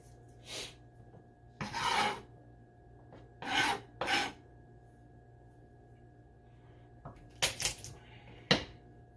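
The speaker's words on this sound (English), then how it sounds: "Just squeeze it, remove the tip, and you can peel." Garlic cloves being peeled by hand, skins squeezed and rubbed off in several short dry rasping bursts with quiet gaps between, close and fairly faint.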